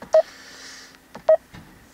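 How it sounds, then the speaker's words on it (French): Dialing tones from a phone call relayed through a Garmin 3597LMT GPS: two short keypad beeps about a second apart, clear and alone over a faint hum. "Et ça compose le numéro que j'ai choisi et ça envoie le son par le GPS."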